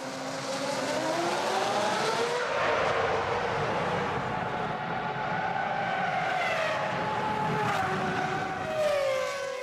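Formula 1 cars from the 2006 season, a Ferrari and a Renault, race by with loud, steady engine whine whose pitch rises and falls as they pass, a continuous roar filling the scene without any talk.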